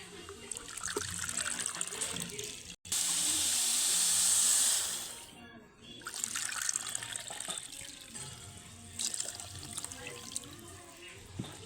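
Water is poured from a measuring cup onto sugar in a pan to make syrup for bundiya, a steady close splashing pour that swells into a louder rushing gush, then settles into trickling and light clatter.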